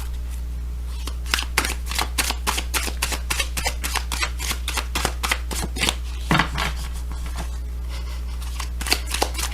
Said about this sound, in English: they said shuffle and pull a couple more cards on this